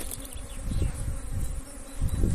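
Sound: honeybees buzzing on a hive frame

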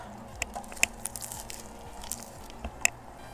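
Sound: eating pizza, biting and chewing

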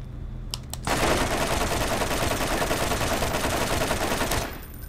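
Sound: assault rifle fire in Borderlands video game

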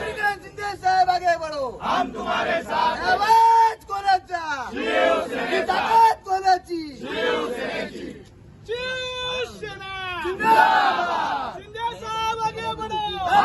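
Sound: Yuva Sena supporters cheering in celebration in Thane

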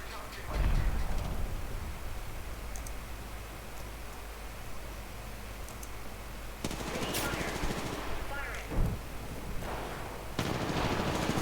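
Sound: gunfire in a shooter video game

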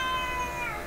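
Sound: cat meowing

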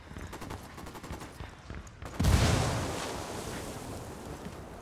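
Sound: frag grenade explosion in video game Ghost Recon Wildlands

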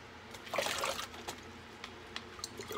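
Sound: water poured from a cup onto steaks

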